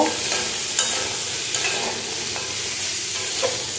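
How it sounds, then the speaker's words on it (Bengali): Crabs frying in a wok, a dense continuous sizzle of hot oil with a few sharp spatula taps and scrapes, near and steady, no voices. "তো দেখো কাঁকড়াগুলো ভাজা হয়ে গেছে, আমি এগুলোকে এবার তুলে নেব।"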